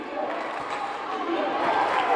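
Crowd at a boys high school basketball game, SHS versus Marion, cheering in a loud, steady roar that swells toward the end, with an announcer's voice mixed in.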